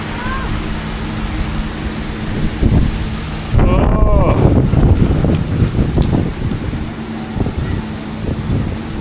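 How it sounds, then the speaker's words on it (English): Torrential rain roars steadily on a roadside in Whitechapel, London, with wind buffeting the microphone, while a person talks and exclaims over the downpour. "Torrential downpour. Oh man, this is grim."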